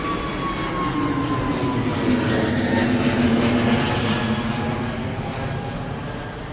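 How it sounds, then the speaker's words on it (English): An easyJet Airbus A320neo roars past at Bristol Airport, a loud sustained engine rush with a whining tone that swells slightly midway and then eases, no voices. "Easy A320 Neo."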